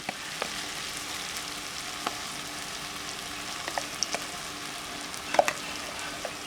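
Onions and tomato with coriander powder sautéing in a pan: a steady, even frying sizzle broken by occasional light clicks and taps of a spatula against the pan.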